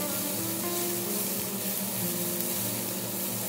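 Peppers frying in a pan for a Spanish seafood stew, giving a steady, even sizzle that holds at the same level throughout and sounds close and alone.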